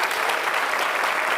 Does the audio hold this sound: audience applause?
yes